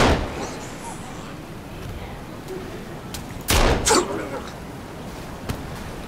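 Gunshots in Sons of the Forest: two or three sharp, loud blasts in quick succession partway through, with a fainter crack later, set against a low ambient background.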